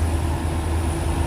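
A Mitsubishi Canter truck on a road hauling palm fruit, its engine a steady low diesel rumble with a constant hum and no break, sounding fairly close.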